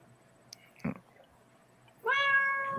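Soft bumps and a faint tap come first, then a house cat lets out one long, close meow near the end that is clear and steady, with no talking over it.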